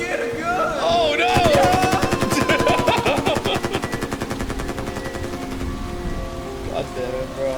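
Automatic gunfire rattles in rapid, evenly spaced bursts from Foxy in a Five Nights at Freddy's-style horror game, loud and close, with an excited voice shouting over the shots at the start.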